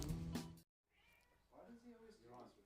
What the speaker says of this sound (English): Kitty just comes in now, just when we're about to get started again, wants to come in and crawl all over David.